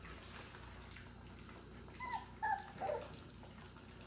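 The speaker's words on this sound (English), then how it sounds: "This is Kiki's puppy." A three-week-old Boerboel puppy gives a few brief, high whimpers in close succession, faint over a steady background hum.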